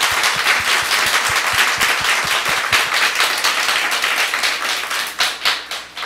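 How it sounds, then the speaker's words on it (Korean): A church congregation applauding during a revival meeting, steady dense clapping from many hands close by, continuous and loud throughout before thinning slightly toward the end. "하나님께 먼저 감사와 영광의 박수를 좀 올려드리도록 하겠습니다"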